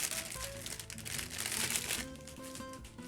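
Plastic parts bags of a Real Grade RX-78-2 Gundam model kit crinkling and rustling close by, continuous for a few seconds, with music playing underneath.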